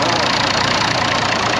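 Old 105 horsepower tractor engine idling: a steady, loud, close rumbling drone with an even mechanical chug throughout and no speech over it.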